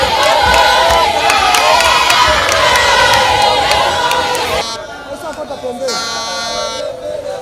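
A huge crowd in Bukavu greets candidate Modeste Bahati Lukwebo with loud, sustained cheering and shouting. Near the end the roar drops and a horn or buzzer blares over the crowd.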